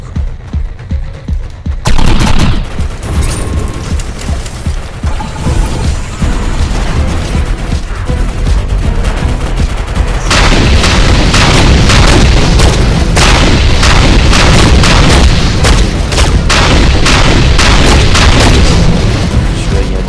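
Weapon fire and explosions in the video game Defiance: dense, loud volleys of rapid gunshots and booming blasts run almost continuously, with a quieter opening moment before the barrage builds.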